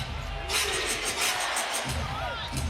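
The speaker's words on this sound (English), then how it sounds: "Crowd trying to inject a little bit of energy." An NBA basketball arena crowd during a Dallas Mavericks vs Oklahoma City Thunder game gives off a steady swell of cheering and hubbub that rises for about a second and then settles into a general roar, with low rumble throughout.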